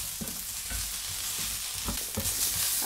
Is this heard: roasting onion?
yes